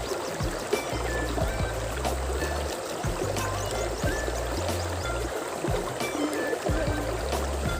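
Steady rushing flow of a river, continuous and close, with a low rhythmic thumping underneath and no voices, at a campsite in Tanay.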